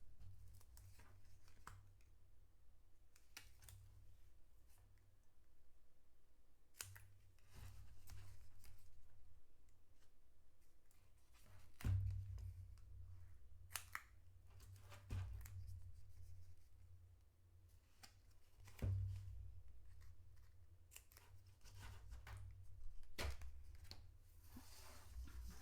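Scissors snip through card while a Valentine's Day card is being made. The cuts are faint, sparse clicks and crunches spread over about twenty-five seconds above a low, steady room hum.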